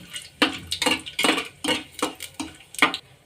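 Cardamom, cinnamon and bay leaves stirred in a pot make a near, rhythmic series of about eight metallic scraping clinks of spoon against pan, evenly spaced with brief pauses between strokes.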